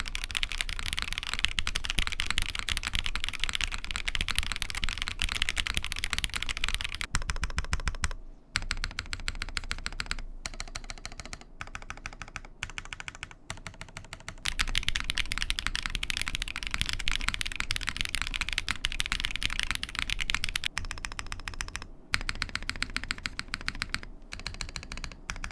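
Rapid, steady typing on a KBD8X MKIII mechanical keyboard with force-break mods, close and loud, with dense clacking keystrokes, slight case resonance and a few brief pauses between bursts.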